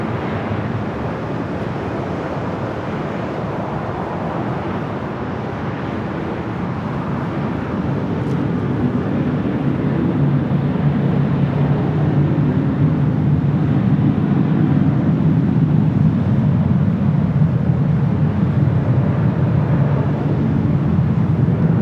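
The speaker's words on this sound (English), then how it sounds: "This is Flight 126, coming from Tokyo Haneda to Star Alliance 787-9 Dreamliner." A Boeing 787-9 Dreamliner arriving from Tokyo Haneda at Los Angeles airport gives a steady broadband jet roar that swells louder about a third of the way through and holds strong, with wind rumble and no talk.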